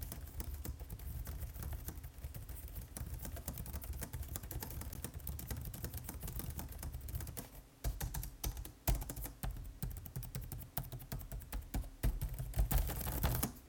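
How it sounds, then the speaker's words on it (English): Rapid, continuous tapping of keys on an ASUS TUF Gaming A15 laptop keyboard, close up and crisp, with brief pauses between bursts. "let me give you a clip of how it sounds when we type."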